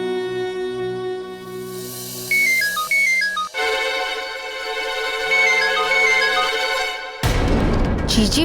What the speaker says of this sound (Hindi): जीजी फोन काहे ना उठा रही है?